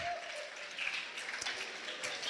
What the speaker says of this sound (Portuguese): vamos dar uma salva de palmas ali, 50 pedaços de pizza,